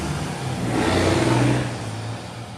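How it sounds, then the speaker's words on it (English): Caterpillar engine with straight pipes idling and briefly swelling in a shop, a broad, rough exhaust roar that rises in the middle and settles back, heard alone. "Nothing's better than a Caterpillar with straight pipes, right?"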